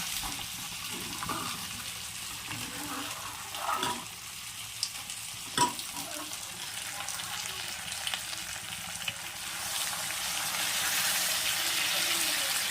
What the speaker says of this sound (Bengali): মশলা দিয়ে মাছের মাথা দিয়ে এবার এই ডালটা দিয়ে দেবো